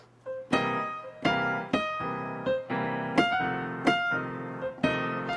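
A piano plays a chunky four-on-the-floor left-hand pattern: firm chords struck evenly on each beat, ringing briefly between strikes, clear and close with nothing else heard.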